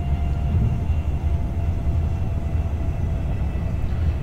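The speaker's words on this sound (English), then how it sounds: "These brakes are powerful." A Class 390 electric train in Train Sim 2021 brakes with a steady low rumble and faint whine, continuous and close, with no talk over it.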